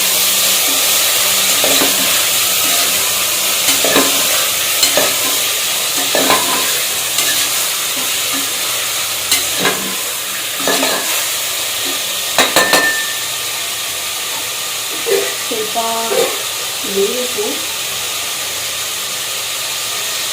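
Green chilli chicken stirred in a pan, a continuous sizzle and hiss under repeated scraping and clacking strokes of a spoon, near and fairly loud, with no talk.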